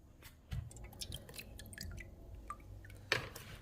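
Water drains out of a pothos plant pot indoors in winter, giving a few faint, scattered drips and soft wet ticks against a quiet background.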